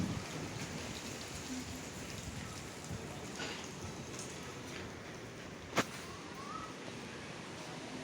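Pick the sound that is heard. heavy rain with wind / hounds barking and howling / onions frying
heavy rain with wind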